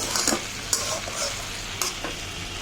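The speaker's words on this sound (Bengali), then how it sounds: "আমি আলু ভাজিটা ভাজা ভাজা করে নিয়েছি" Potato bhaji frying in a pan, stirred with a few scrapes and clicks over a steady close sizzle, with no voices.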